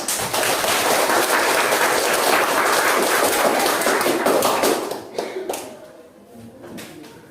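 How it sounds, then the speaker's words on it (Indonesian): Students in a classroom applaud after a group presentation, with dense, lively clapping for about five seconds before it thins into a few scattered claps and fades. "Silakan tepuk tangan dulu."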